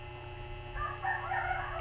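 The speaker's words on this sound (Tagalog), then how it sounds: "Oh, ayun, may manok." A chicken in a rural yard gives a short call partway through, faint and distant, over steady background hum, with no talking.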